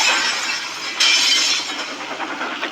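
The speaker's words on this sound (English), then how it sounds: "Caused the glass in the coaches to shatter and rocked them side to side." Glass shattering in railway coaches: a sudden bright crash of breaking panes about a second in, followed by scattered tinkling and rattling as it fades, heard alone and up close.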